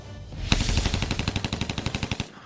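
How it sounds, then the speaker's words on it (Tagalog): A rapid series of gunshots rings out on a street in Tacurong, Sultan Kudarat, during a police operation: around twenty loud, sharp cracks in quick regular succession, echoing close by with no speech. "Sunod-sunod ng putok ang umalingaw-ngaw sa kalsada ng Tacorong Sultan Kudarat."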